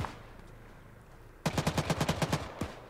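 Heavy .50 cal machine gun fire in Arma 3: after a quiet stretch, a loud burst of about ten evenly spaced, punchy shots rings out close by with sharp reports and echoing tails.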